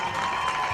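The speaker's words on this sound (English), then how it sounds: "Let's give a big round of applause, guys." A crowd applauds a youth Bantam football team at a Super Bowl event, a brief, steady wash of distant clapping and cheering without distinct claps.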